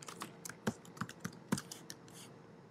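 Typing on a computer keyboard, a quick irregular run of sharp close clicks and key taps with brief pauses, no voices.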